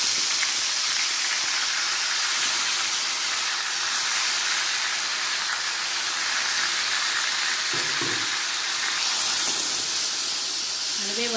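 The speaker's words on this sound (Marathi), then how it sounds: "जो आपण किस तयार केलेला आहे आंब्याचा तोच या तेलामध्ये आपण ह्या फोडणीमध्ये टाकणार आहोत" Grated mango dropped into hot tempering oil for gulamba, a loud, dense, continuous sizzle and hiss filling the clip, with a couple of faint stirring knocks near the end.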